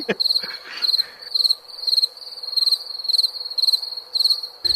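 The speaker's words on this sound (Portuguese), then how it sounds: "coloca o grilinho lá. Cri, cri, cri, cri." A cricket chirps in regular repeated trills, a shrill high-pitched pulsing that continues steadily, close and fairly loud against quiet.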